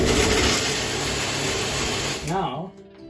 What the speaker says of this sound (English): So we shall grind all this nicely in the grinder to make it into a nice